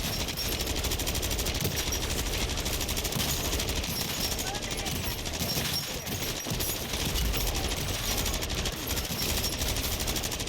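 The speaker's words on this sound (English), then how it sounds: "I'm literally just holding down the trigger, killing zombies" Continuous automatic gunfire from a weapon held on the trigger nonstop while killing zombies in Call of Duty: Modern Warfare 3 Zombies. A dense, unbroken rattle of shots runs throughout with someone talking over it.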